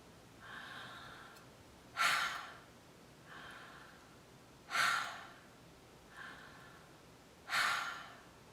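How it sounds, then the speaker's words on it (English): Deep breaths drawn and released through a wide-open mouth in a breathwork exercise: three strong, breathy inhales spaced a few seconds apart, with softer exhales between them, close and alone in a quiet room. "So open the mouth nice and big. Deep inhale."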